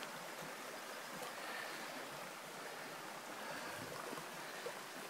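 Steady creek water rushing and burbling over rocks, a continuous broadband wash that fills the whole stretch at an even level with no voices.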